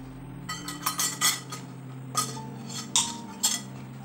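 A spoon clinks against a bowl while tamarind chaat masala is being mixed, giving a series of sharp, close metallic taps in irregular clusters with short pauses between them.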